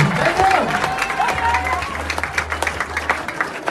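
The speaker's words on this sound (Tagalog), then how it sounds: "Bigyan mo yung palakpak para sa council." An indoor audience breaks into steady applause for a council at a business opportunity presentation, clapping and a few cheers building and holding under a voice briefly speaking over the room.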